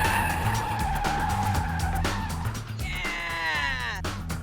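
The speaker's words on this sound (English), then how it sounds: "The guys will get to grips with the 180 spin technique on a normal car first." A normal car skids through a 180-degree spin, its tires squealing in a rising, wavering screech over engine noise, close and loud.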